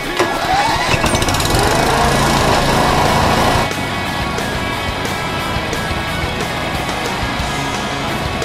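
A loud, close engine drones continuously, like a lawn mower running; its rough roar softens slightly partway through, then keeps going steadily.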